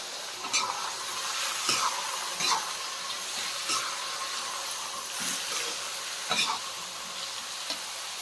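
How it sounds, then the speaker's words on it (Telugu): Small bottle gourd pieces sizzle in a hot pan with a steady, moderate frying hiss, punctuated by occasional soft clinks and scrapes of stirring. "ఇప్పుడు సొరకాయ ముక్కలు వేసేస్తున్నా"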